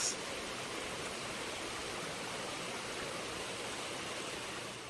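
Kitekite Falls waterfall, a constant broad rush of falling water, steady and full without pauses, no voices over it.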